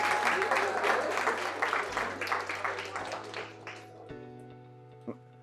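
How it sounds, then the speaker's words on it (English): An audience at a community conversation on bullying claps in a burst of applause that fades out over a few seconds, leaving a low room hum and a faint knock near the end. "Let's give her a round of applause."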